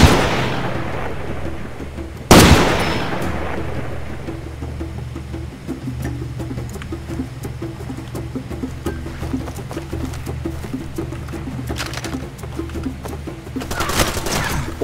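Gunfire from an enemy sniper in the video game Far Cry 2: a sharp loud shot bursts out near the start, with another burst near the end, over a steady low rumble of game ambience and engine hum.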